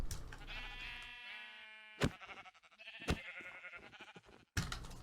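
Sheep in Minecraft bleat repeatedly with a wavering, buzzy tone, joined by sharp clicks and game sound effects, with no talking.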